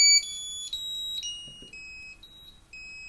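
An Arduino-controlled alarm at its loudest setting gives off steady, shrill electronic tones that step between pitches in a continuous beeping pattern, close and without talk.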